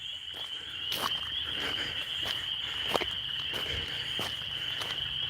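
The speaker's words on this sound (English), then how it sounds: "Can you hear the spring peepers?" Spring peeper frogs calling outdoors, a continuous high shrill chorus of peeps with a few louder clicks and rustles over it, fairly faint and with no talking.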